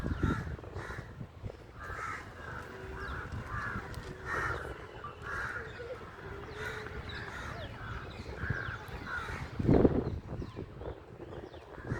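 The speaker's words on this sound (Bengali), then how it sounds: "আর আবার সাথে সাথে কাকের ডাক।" Crows caw repeatedly in a park, sharp hoarse calls recurring through a soft outdoor background, with one louder nearby caw standing out near the end.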